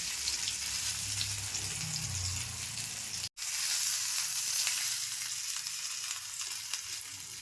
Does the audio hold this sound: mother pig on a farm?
no